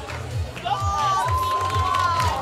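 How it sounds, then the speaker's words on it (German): Crowd cheering and shouting, many of them children, at the award ceremony of a school dragon boat championship, steady and fairly loud throughout, with a rhythmic low thumping pulse underneath. "Jawohl, und Jubel."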